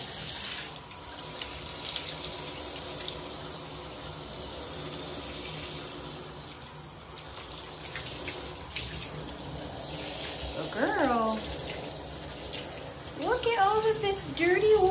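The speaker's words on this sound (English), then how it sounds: "This dirty water coming off of you." Tap water runs steadily while a Samoyed is bathed, a soft continuous splashing stream under occasional quiet talk and a few high yelps or whines near the end.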